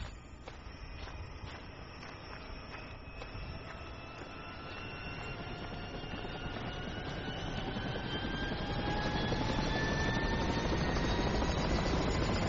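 A transport helicopter in a military video game flies past, its steady rotor and turbine roar building gradually louder over a dozen seconds with a rising whine, no talk.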